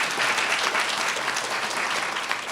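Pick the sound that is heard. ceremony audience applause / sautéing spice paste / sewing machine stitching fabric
ceremony audience applause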